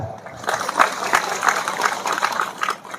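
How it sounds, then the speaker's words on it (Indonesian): Applause from an audience at an Islamic religious gathering marking Isra' Mi'raj, with steady clapping across the whole stretch and a few sharper claps standing out. It sounds fairly close and moderately loud, and no one speaks over it. "Tepuk tangan."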